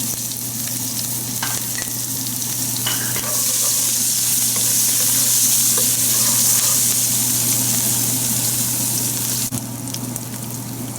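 Green chilies sizzle and fry in hot oil in a pan with a pinch of asafoetida while masala rice is cooked, giving a loud, continuous, close hiss with faint stirring clicks underneath.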